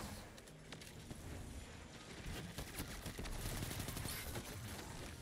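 Rapid gunfire from a Destiny 2 firefight, with the Astrocyte Verse build in play, crackles in dense bursts at a modest level. It grows busier toward the end, with no speech over it.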